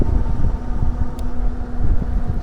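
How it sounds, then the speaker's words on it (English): Wind rumbles steadily past the microphone outdoors, loud low buffeting in uneven gusts with no speech. "It's really windy out here."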